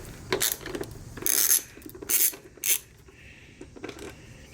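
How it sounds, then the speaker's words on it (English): Metallic ratcheting clicks and scrapes come from a 5mm hex key turning a screw out of a Yamaha Virago during carburetor work, in a few short bursts separated by quieter pauses, close and fairly loud. "Grab our 5mm hex and remove this screw right there."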